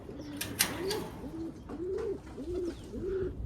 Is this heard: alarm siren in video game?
no